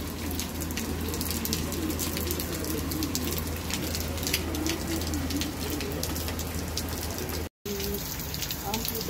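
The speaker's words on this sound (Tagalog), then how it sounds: "Lakas na naman ang ulan." Heavy rain pours down steadily, a dense hiss of drops drumming on surfaces, with a brief dropout near the end before the downpour resumes.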